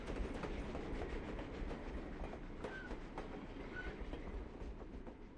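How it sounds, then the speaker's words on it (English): A train rolls past in a steady, fairly faint rumble with clickety-clack wheel beats and a couple of brief high squeals, without any talk. "The train sound is fantastic."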